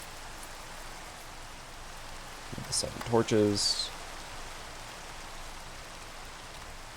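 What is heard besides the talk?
rain falling in the video game Minecraft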